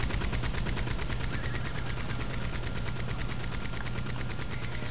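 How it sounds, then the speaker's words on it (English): A Gatling gun fires nonstop in Red Dead Redemption 2 Online, a loud, dense and unbroken rattle of rapid shots that lasts the full five seconds with no speech. "I was hearing a Gatling gun"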